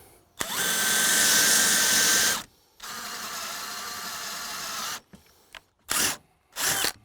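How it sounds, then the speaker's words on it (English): A power drill whines loudly in a long burst while drilling holes in wood for a deck, then another, followed by a few short bursts with pauses between them. "So let's start drilling holes, shall we?"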